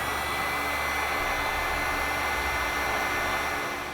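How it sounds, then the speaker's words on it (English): A heat gun blows steadily at close range while shrinking a heat-shrink butt connector on trailer wiring, a constant loud whooshing hum with no talking. "Next we'll take our heat gun and shrink it up."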